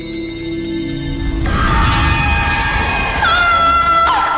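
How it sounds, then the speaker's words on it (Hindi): A woman screams loudly and continuously in a TV crime drama scene, a shrill sustained cry over crowd-like noise and music that persists to the end. "चीखी क्यों?"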